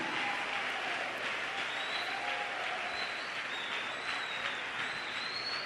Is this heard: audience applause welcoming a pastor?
yes